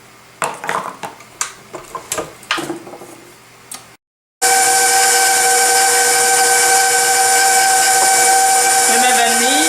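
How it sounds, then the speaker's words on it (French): A stand mixer beats butter and brown sugar for a chocolate cake. Several close clinks and clatters of kitchen utensils come first, then a brief silence, then a loud, steady motor whine with a faint rhythmic slap toward the end. "dans mon super malaxeur, je vais battre mon beurre, ma cassonade"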